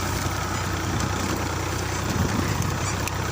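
A tractor engine runs steadily in a paddy field, a loud, continuous low rumble holding close and unbroken with no voices.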